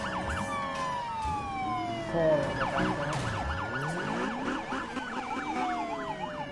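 Several police car sirens wail and yelp together in the Need for Speed racing video game on its 2015 map. The rising and falling tones overlap continuously and fairly loudly while someone talks briefly over them.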